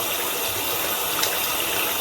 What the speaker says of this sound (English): Let me rinse it some more.